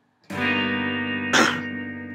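A single electric guitar chord with the two lower strings open rings out with effects and a slight drive, then gets strummed again about a second later and sustains.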